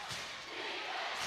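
A basketball crowd at a high school game roars in a steady, loud wash of cheering that swells slightly toward the end.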